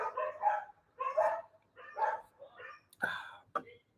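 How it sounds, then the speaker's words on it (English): Dogs barking in short, excited bursts at a moderate distance, about six sharp barks in quick succession, with no other sound in between. "the dogs are excited across the way. They're annoying dogs."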